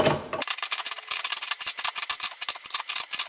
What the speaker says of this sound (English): Now take a pipe wrench and tighten them down.